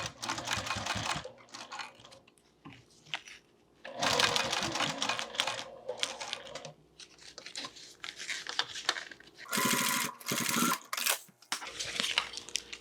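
A sewing machine top stitches around a bag's recessed zipper closure, whirring in repeated close bursts of varying length with brief stops between runs.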